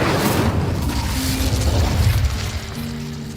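The Incendio fire spell cast in the video game Hogwarts Legacy, a loud whooshing burst of flame with a heavy low boom that fades over about three seconds.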